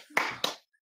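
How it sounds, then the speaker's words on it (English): Two sharp hand claps close up, about a quarter second apart, then silence. "You gotta do the clap."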